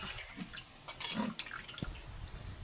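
Water trickles and drips steadily through a strainer of cooked vermicelli nearby, a soft continuous draining patter with a few small splashes.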